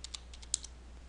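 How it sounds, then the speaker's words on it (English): Faint, sparse keystrokes on a computer keyboard, a handful of light clicks spread over about a second against a quiet steady hum. "We'll type that in."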